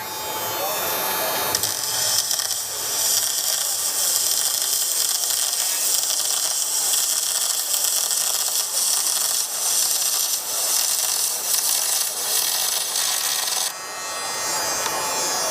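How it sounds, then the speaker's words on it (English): TIG welding lays an aluminum bead with the stitch method, a loud, continuous close-up buzzing hiss that holds steady for most of the span before cutting off near the end. "this will give us more of our traditional TIG look to the bead"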